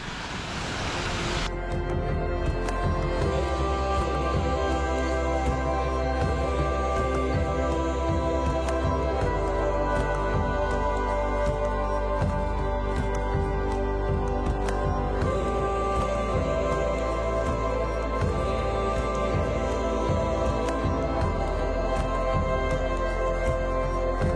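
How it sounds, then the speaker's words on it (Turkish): Steady, powerful roar of a large waterfall heard close by, a continuous broadband rush of falling water with a deep rumble underneath and no talk over it. "Sesi bile harika şu şelalenin."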